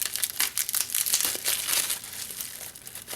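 Crinkly plastic bubble wrap packaging around a set of Makeup Geek eyeshadows, taped shut, rustles and crackles steadily for a few seconds, close and fairly loud with no one talking.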